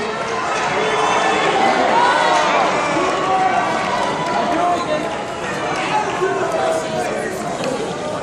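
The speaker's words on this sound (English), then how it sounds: "Cheer out what you want to see, guys." A large audience at a sumo wrestling demonstration shouts and cheers continuously, many voices blending into a loud, steady roar without pauses.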